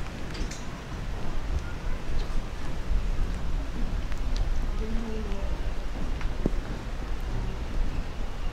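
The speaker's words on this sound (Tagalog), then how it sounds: "umuulan na naman" Rain falls in Jangtaesan Recreational Forest in Daejeon as a steady broadband hiss with scattered drops, moderately loud and continuous, with faint voices now and then underneath.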